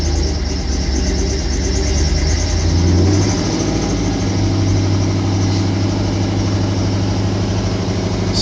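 A 1969 International Loadstar 1600 truck engine idling steadily on a cold morning with a little choke, a deep, loud, continuous rumble with no voices.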